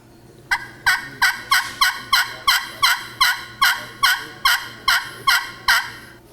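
A friction pot turkey call imitates a turkey with a steady run of about fourteen sharp, evenly spaced yelps, loud and close, with nothing else heard.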